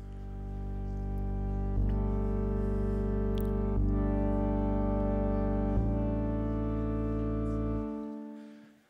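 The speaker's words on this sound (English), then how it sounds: "by taking this game of life and assigning musical notes to it, represented by numbers, we are able to listen to it." Computer-generated music built from Conway's Game of Life cells mapped to notes, heard as a loud, sustained mellow electronic tone with layered harmonics, shifting chords every couple of seconds before fading out near the end, with no voices.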